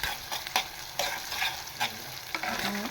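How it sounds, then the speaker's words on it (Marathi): Ginger-chili paste frying in a hot pan, a steady bright sizzle broken by repeated scraping stir strokes at irregular intervals, close and moderately loud with no voices. "आलं मिरचीची पेस्ट छान अशी परतवून घेते मी."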